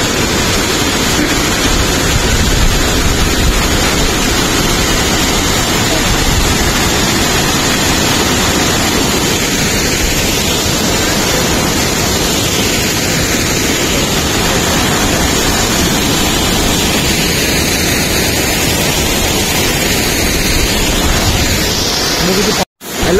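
Sarisua Waterfall in Baleswar sends water rushing over rocks in a constant, loud, close roar of broadband noise that holds steady throughout and then cuts off abruptly at the very end.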